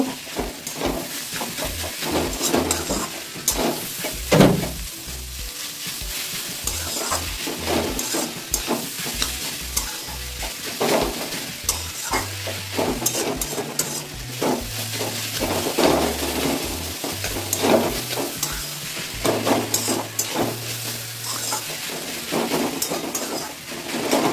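Radish sautéing in a hot pan with cumin and coriander powder, a continuous close sizzle broken by repeated scraping and stirring strokes of a spatula, steady and lively throughout.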